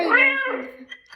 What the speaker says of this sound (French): C'était un chat.